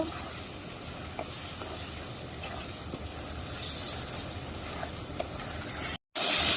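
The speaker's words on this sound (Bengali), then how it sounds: "ট্যাংরা মাছ এখন দিয়ে দিব মাছটা সামান্য একটু কষায় নেব" Tengra fish sautéing in a pan for a sour olive curry, a steady low sizzle and hiss with light stirring scrapes throughout.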